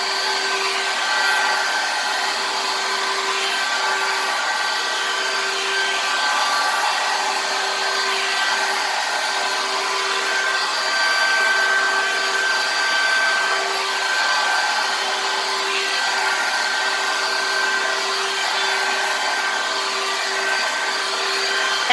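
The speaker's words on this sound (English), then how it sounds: "if you can hear me over the blow dryer" A blow dryer brush runs on its high setting while drying kinky hair, giving a steady, loud, unbroken whir with a constant high whine for the whole stretch.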